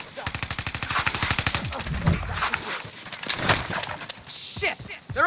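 Rapid automatic gunfire in the video game Warzone on Rebirth Island, a fast rhythmic burst followed by scattered shots and clatter, with a voice talking over it.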